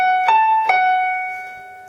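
Piano notes play the opening of a melody, with two soft struck attacks over a sustained ringing tone that fades gently, close and clear with no talking.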